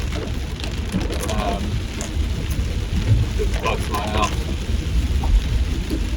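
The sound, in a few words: heavy rain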